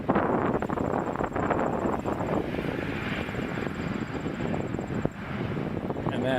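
Air Canada Airbus A321 arriving at Toronto Pearson from Vancouver, a moderate jet-engine roar mixed with gusty wind buffeting the microphone, fluctuating but steady overall.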